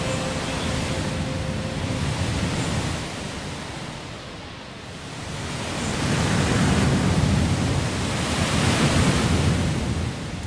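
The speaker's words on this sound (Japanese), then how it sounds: "轟音の滝へようこそ。" A roaring waterfall in a Thomas & Friends train racing video game gives a steady, loud broadband rush of water that dips briefly and then swells again.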